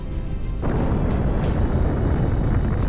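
A dense, roaring explosion effect standing in for a supernova blast: a sudden swell about half a second in, then a sustained wall of low rumbling noise that stays loud throughout, with no voices.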